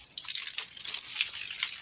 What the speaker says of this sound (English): As long as I see water coming out of this hose